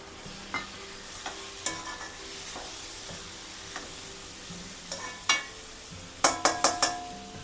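Tomatoes frying with potatoes and onions in a pan: a soft sizzle under intermittent clinks and scrapes of a spoon stirring, ending in a quick run of sharper metallic taps.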